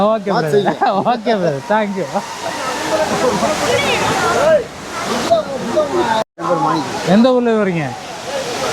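The Courtallam main waterfall pours with a steady, broad rush of water while bathers shout and cheer excitedly over it. The voices are close and overlap.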